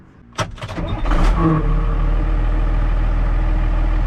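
A Case IH Maxxum 5250 tractor's diesel engine cranks with a few sharp clatters, catches, and settles into a loud, steady low idle rumble nearby.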